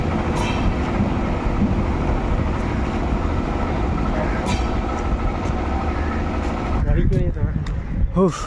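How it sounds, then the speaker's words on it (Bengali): The Kanchankanya Express passenger train pulls out of Hasimara railway station, its steady rolling rumble and rail clatter close and loud throughout, with sharper squeals and clanks near the end. "আমরা যেই ট্রেনে এলাম Kanchankanya express Hasimara railway station থেকে বেরিয়ে আলিপুরদুয়ারে গিয়ে তার জার্নি শেষ করবে"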